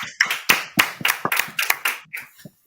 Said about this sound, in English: Get a big round of applause for Knowledge Born